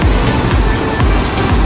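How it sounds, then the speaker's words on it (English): Mist Falls, a waterfall in Kings Canyon National Park, California, on a hiking trail, gives a steady, loud, broadband roar of rushing water that fills the whole stretch without a break. No voices are heard. "Chasing waterfalls."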